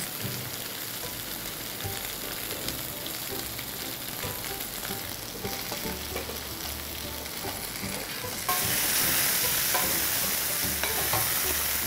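Rajma sautéing in a pan, a continuous dense sizzle with faint stirring scrapes that grows brighter and louder toward the end.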